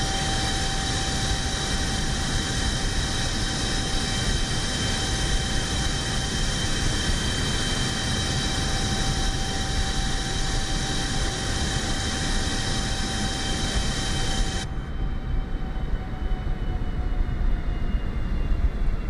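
Jumbo jet engines roar steadily in Microsoft Flight Simulator on a Riyadh to Addis Ababa flight, a loud broad cabin drone with a thin tonal whine that cuts to a softer rumble near the end.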